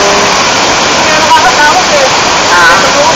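Mimbalot Falls roars as a steady, loud, dense wash of falling water close by, with no break in the rushing sound and faint voices beneath it.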